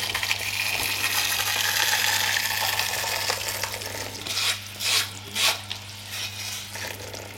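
Hot vegan salt water taffy syrup, cooked to 124 degrees and thickened, poured into a mould, giving a steady close sizzling, bubbling hiss with a few louder gushing surges toward the end.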